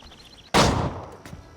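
In Assassin's Creed III, a single loud gunshot cracks out and blows open a door, with a close, heavy boom that decays quickly and a fainter clank after it.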